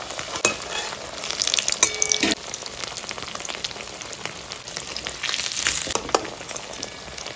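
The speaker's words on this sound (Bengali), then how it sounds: "ধরে ধরে তোমাদেরকে আস্তে আস্তে করে ভেজে নিতে হবে মাছটা।" Katla fish coated in lentil powder frying in a pan over medium heat, a steady close sizzle with a few sharper crackles and spatters, no voices.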